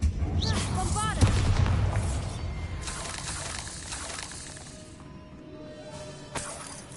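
Bombarda blasting spell in Hogwarts Legacy, a loud booming explosion at the start with crackling debris that decays over several seconds, followed by a smaller sharp crack near the end.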